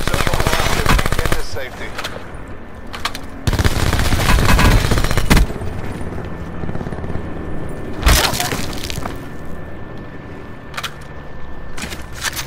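M16 rifle fire in the battle royale game Call of Duty Blackout on the Alcatraz map: loud bursts of automatic gunfire with sharp cracks, alternating with quieter stretches, while a voice speaks briefly.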